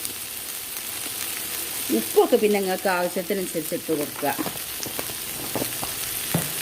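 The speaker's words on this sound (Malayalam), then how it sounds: "നമുക്ക് വെണ്ടയ്ക്ക ഒന്ന് പൊരിച്ചെടുക്കാം" Sliced okra fries in a pan with a steady close sizzle and some stirring, while someone talks over it.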